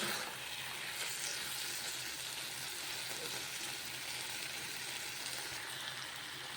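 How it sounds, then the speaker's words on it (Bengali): Mutton frying with spices over high heat, a constant faint hiss and crackle of sizzling with no pauses. "এবার মশলাটার সাথে মাটনটা খুব ভালো করে কষিয়ে নেব।"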